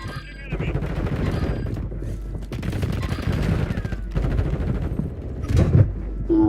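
Rapid gunfire bursts in the battle royale video game Warzone, repeated volleys of shots crackling back and forth with short gaps, loud and close with a few heavier booms.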